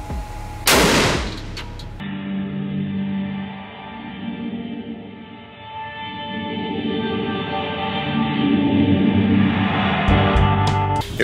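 A 7.62 rifle firing a 180-grain round into a stack of notebooks, one sharp, loud report near the start, then a long ringing decay and low rumble, with faint clicks near the end.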